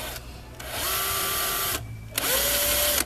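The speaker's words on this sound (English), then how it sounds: "using the drill to make some marks on the middle" A power drill whines in two short bursts close up while marking holes for a speaker install in a 1966 Triumph Herald, each spinning up to a steady pitch and then stopping, with a quiet pause between.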